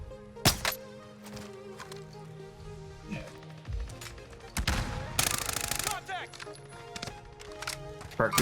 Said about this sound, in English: They're being shot from below.